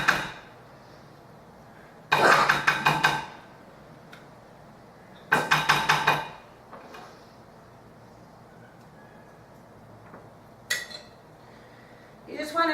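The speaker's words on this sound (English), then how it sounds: "Scoop the rest out with the spatula." A spatula scoops and spreads thick taco dip in a dish, making a few short bursts of scraping and clinking about two seconds apart, with quieter gaps and faint kitchen background between them.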